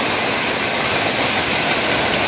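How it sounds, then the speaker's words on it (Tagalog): Heavy rain pours down in a steady, dense roar heard from indoors, loud and unbroken throughout. "Ang lakas na ng ulan."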